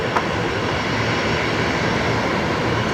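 Airliner jet engines rumble steadily at Brisbane Airport as planes taxi and push back, a constant loud broadband roar with no talking.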